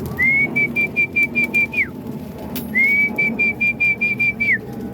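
A man whistles to call young pigeons at the loft to food, giving two long level whistles, each ending in a quick downward slide, with a pause between them and faint rhythmic background taps.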